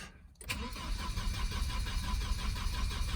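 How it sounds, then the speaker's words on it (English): A Volvo 940 with a B230FT engine, suspected seized fuel pump, cranks on the starter after a brief quiet moment, a continuous loud churning drone close by that runs on without catching. "So let's just turn the key, and I'm pretty certain it's not going to start because I'm pretty certain the fuel pump's seized."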